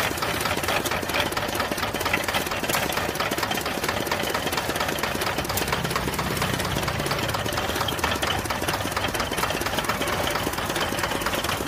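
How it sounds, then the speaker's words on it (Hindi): Diesel engine powering a sugarcane juice machine at a roadside stall in Agra, running steadily and loudly with a rapid knocking chug throughout, with no talk over it. "ये डीजल वाला इंजन क्यों रखा हुआ है, हाथ वाला क्यों नहीं है?"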